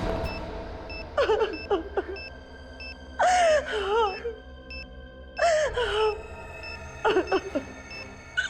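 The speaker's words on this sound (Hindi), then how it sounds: "रोने की आवाज?" A person sobs and wails in loud, broken bursts, with high electronic beeping tones sounding intermittently in the background.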